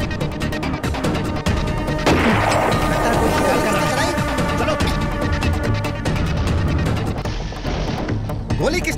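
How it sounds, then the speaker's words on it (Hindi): A gunshot cracks out in a forest, a sharp loud burst amid a dense, noisy film soundtrack with rustling and crackle continuing around it. "गोली किसने चलाई?"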